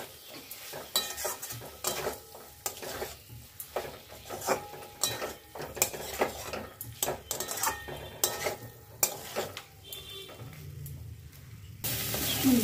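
A spoon scrapes and clatters rhythmically through cauliflower and potato being fried in a spiced pan, with repeated sharp metallic stirring strokes over a low sizzle, close and fairly loud, with no talking.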